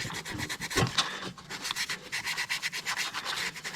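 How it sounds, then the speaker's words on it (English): A Scotch-Brite pad scrubs back and forth across a corroded part from a 1959 Mercedes-Benz 220S Ponton. The rubbing is close and steady, with quick rasping strokes and no voices. "let me just kind of hit it with the Scotch-Brite again. Kind of rub it like this."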